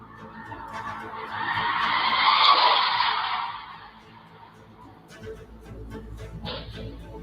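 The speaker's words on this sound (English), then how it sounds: "And then seconds later, you hear this loud crash." A car skids and crashes on a quiet neighborhood street, picked up by a doorbell camera: a long rising screech swells over several seconds and fades, then sharper impact noises and rattling follow, heard from a distance.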